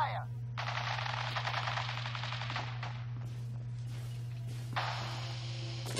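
Sustained automatic gunfire in Fallout 4 rattles in rapid bursts, with short gaps between them, over a steady low electronic hum from the game.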